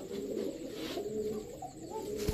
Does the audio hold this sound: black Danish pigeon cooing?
yes